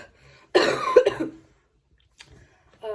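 One harsh, close cough from an ill woman in a couple of quick bursts, followed by near silence and then a voice starting briefly at the end.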